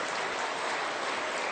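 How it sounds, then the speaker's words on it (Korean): A church congregation at a Korean Sunday service applauds as one dense, even wash of clapping, holding at a steady level for the whole moment without any voice over it. "박수 한번 해주세요."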